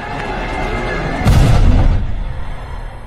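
A rocket explosion at a forced labour camp: a single deep boom erupts midway with a heavy low rumble that swells and then slowly fades under a steady background bed.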